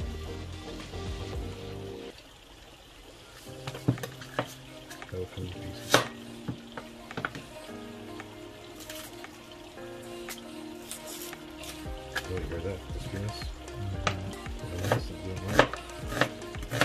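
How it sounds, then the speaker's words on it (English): A knife chops through a whole onion into large pieces, sounding as a string of crisp, irregular taps on the board over a faint kitchen background of pan sizzle and hum, with no one talking. "I just cut a whole onion just like that."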